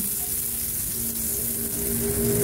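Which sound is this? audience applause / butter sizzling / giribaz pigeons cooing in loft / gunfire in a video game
butter sizzling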